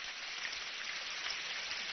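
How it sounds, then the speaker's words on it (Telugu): Rain falling in a cartoon, a steady, even hiss of downpour without breaks, soft and continuous with no voices over it. "ఏ సూపర్, నిజంగానే వాన పడుతుంది"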